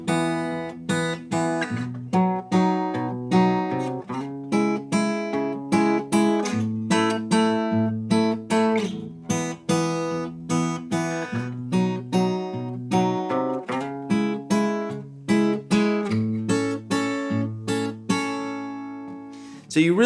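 A guitar plays a steady fingerpicked pattern in triple feel, picked notes ringing in a harpsichord-like arpeggio across the chord changes, clear and close with no talk.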